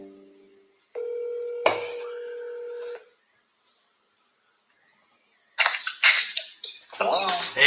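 A cell phone call being placed, with a couple of short dialing tones, then a steady two-second ringback tone, a long silence, and a person answering and talking at the end.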